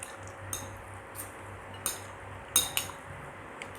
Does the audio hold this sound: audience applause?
no